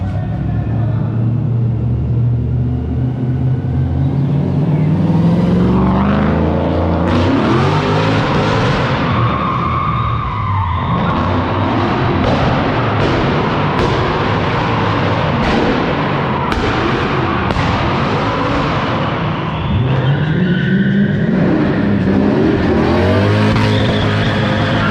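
A straight-piped 3UZ V8 car is revved hard inside a warehouse, its loud raw exhaust rising and falling in repeated bursts. Tire squeal and thumps come through the echoing space, and a crowd can be heard faintly beneath the engine.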